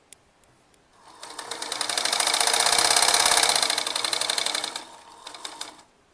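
A sewing machine double-stitches fabric for a baby's elastic frock, its rapid, even mechanical whirring starting after a moment of quiet, running steadily for about four seconds, then winding down to a stop.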